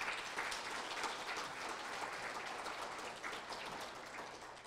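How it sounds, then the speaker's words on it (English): Students at a school ceremony clap for themselves, a continuous wash of crowd applause that is quite faint and distant, slowly fading over nearly five seconds. "Give yourselves a round of applause."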